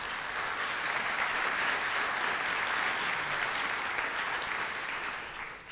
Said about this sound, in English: you would all be applauding to him, but maybe you can do too